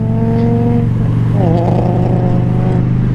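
A carbureted Honda Shadow motorcycle idles with a close, loud engine drone, then its pitch rises and wavers as it pulls away in second gear.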